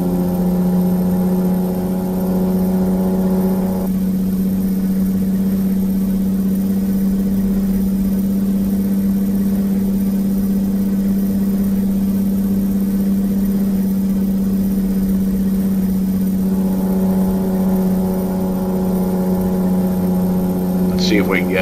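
Truck engine in American Truck Simulator while hauling a tractor to Goldfield, Nevada: a steady, loud low drone hums throughout with a brief lighter revving stretch in the middle, running under quiet game ambience.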